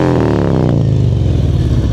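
Motorcycle ridden at low speed during an advanced slow-speed riding practice session in Illinois, its engine rumbling steadily and close by with slight throttle changes, loud and continuous with no talking.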